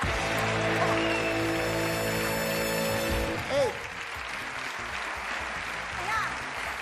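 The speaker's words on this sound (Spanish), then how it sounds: "Para Iago, un aplauso para Iago, gracias Iago." Television studio audience applause, a steady wash of clapping heard first under sustained musical tones, then continuing with voices talking over it.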